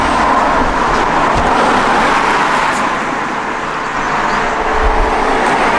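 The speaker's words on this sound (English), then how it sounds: "It's not ideal here now with the traffic going by" Road traffic streams past on a street in Ireland, a loud, continuous roar and rumble of passing cars and heavier vehicles. It swells and eases slightly as vehicles go by, with no voices.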